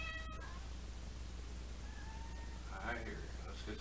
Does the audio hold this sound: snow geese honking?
no